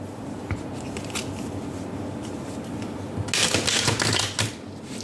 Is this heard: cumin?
no